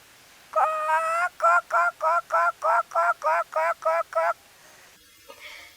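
A voice imitates a hen's cackle before laying an egg: one drawn-out call followed by a run of about ten quick, evenly spaced clucks, close and loud.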